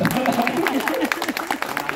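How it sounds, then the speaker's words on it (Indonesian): Audience clapping at a school graduation ceremony for Sekolah Alam in Bogor, a soft scatter of hands under a speaking voice that carries through the applause. "Ya mereka tepuk tangan dulu"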